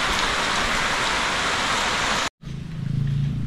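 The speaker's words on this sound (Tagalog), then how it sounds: "Naabot na tayo ng ulan." Steady, loud rain pours across the whole clip, a dense wash of hiss, then cuts out abruptly. After the gap it returns more muffled, heard from inside a vehicle, with a low rumble beneath.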